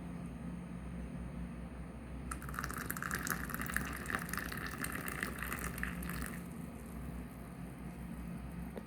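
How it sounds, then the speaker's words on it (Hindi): Black mint tea streams steadily into a cup, a soft bright pouring splash that lasts a few seconds over a faint room hum before stopping. "अब हम इस कप में चाय को डालेंगे।"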